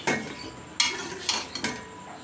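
Mutton pieces frying in oil in a pan for palak gosht, a steady close sizzle broken by four sharp scraping strokes of a spatula stirring the meat, with no voices.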